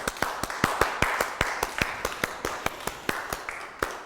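Scattered hand claps from a small audience at an award ceremony honouring a winner, sharp separate claps at an uneven rhythm, sparse rather than a full ovation, with no voices over them.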